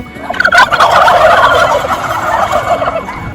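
Loud turkey gobbling on a turkey farm in Bangladesh, a rapid rattling call repeated in bursts with several birds overlapping, close by and continuous through the clip.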